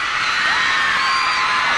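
Dense, loud crowd of fans screaming and whooping continuously at a concert, a sustained high-pitched roar with no gaps.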